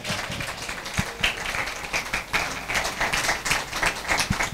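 An audience at a church's tenth anniversary gathering in Dupadu, Kurnool, claps steadily to welcome guests onto the stage, a moderately distant, uneven patter of many hands with scattered louder claps.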